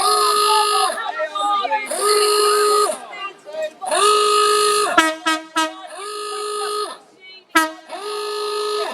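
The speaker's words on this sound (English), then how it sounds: "Don't mind the alarm." An alarm sounds at an Extinction Rebellion protest at the Science Museum, with loud, repeated tonal blasts of about a second each and short gaps between them, mixed with crowd noise and scattered clatter.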